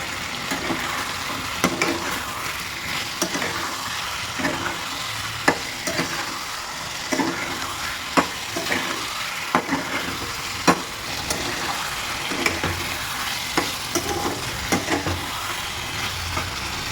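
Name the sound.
stir-frying rohu fish with cauliflower, potato, tomato, spices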